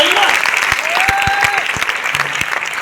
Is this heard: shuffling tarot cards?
no